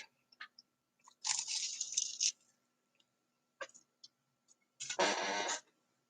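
Someone eats a sausage, egg and cheese croissant, with loud close crunching bites and chewing in two main bursts, separated by quiet pauses and faint mouth sounds.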